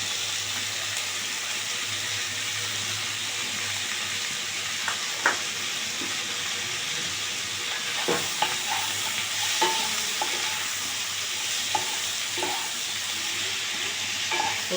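Onion frying in a pan for chichinga (snake gourd) curry, a steady close sizzle with scattered clinks and scrapes of a spoon stirring.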